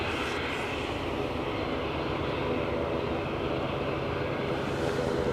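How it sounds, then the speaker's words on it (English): An Offshore Helicopter Services Airbus helicopter inbound at Aberdeen airport: a steady, broadband engine and rotor roar that holds at constant loudness, with no voices on top. "the chopper inbound. That much I do know, because I can hear it. And that will be an offshore helicopter services Airbus"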